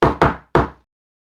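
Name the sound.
knocking imitating a knock on a closed door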